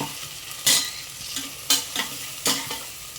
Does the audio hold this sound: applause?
no